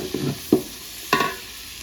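Tomatoes stirred into a cooking pan for a brinjal tamarind curry, three short scraping, splattering strokes over a faint background sizzle.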